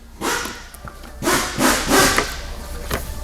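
Trim stick prying a Christmas tree fastener loose from a panel on a 2011-2013 Dodge Durango near the upper radiator support, a few loud scraping, creaking pushes close by.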